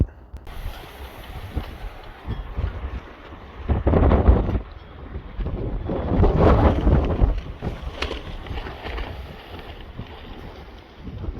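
Strong gusts batter the microphone at a desert campsite, a heavy roaring rumble that swells and fades in waves, loudest in two big surges, with no voices.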